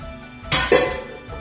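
Goat meat for a Lucknow-style curry tipped into a cooking pot on a gas stove: a sudden clatter and a second knock against metal, then a fading hiss.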